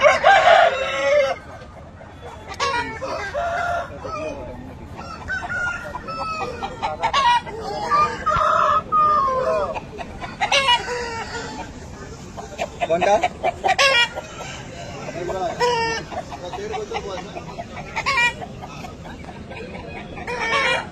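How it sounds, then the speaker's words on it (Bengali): A red fighter rooster, about a year and a half old, and other fowl at a poultry market cluck and crow repeatedly up close, with a person speaking briefly. "এই একটা মুরগি দেখালো, রেড ফাইটার"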